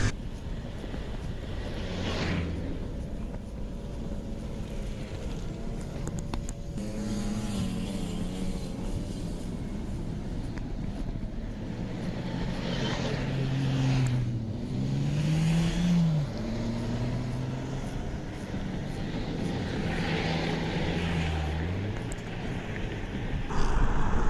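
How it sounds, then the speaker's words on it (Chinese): Cars travel a narrow country road through farmland near Hengjiang village, giving a continuous engine drone with a vehicle swelling past in the middle and further passes fading in and out. "我看这条小路上啊，来来往往的车不少啊。"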